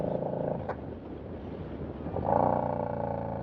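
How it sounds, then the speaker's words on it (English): A Yamaha Bolt motorcycle with its stock exhaust idles with a steady, deep, throaty rumble, close by, swelling slightly louder toward the end. "This bike is stock exhaust, and it sounds beautiful."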